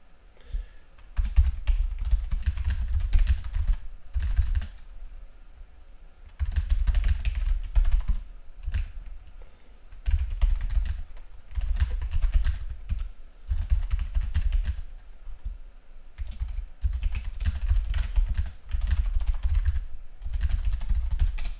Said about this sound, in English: He says as he attempts to both type and speak at the same time.